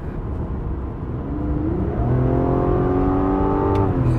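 A Mazda CX-60 with a 3.3-litre six-cylinder engine and eight-speed transmission accelerating: a steady cabin drone swells into a rising, loud engine note heard from inside the car.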